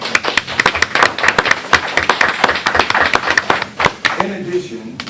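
Audience at a Halifax County government regular meeting breaks into applause, a dense run of clapping that holds for about four seconds and then thins out.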